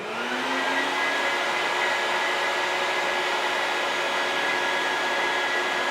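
A bucket head shop vac runs continuously, a loud steady motor whine with airy rushing noise and a fixed high tone, close and unbroken.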